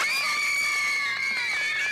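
A high, shrill scream broadcast on a Taiwanese News98 radio show holds steadily for about two seconds, loud and continuous, with a thin, slightly hollow tone and no talking over it.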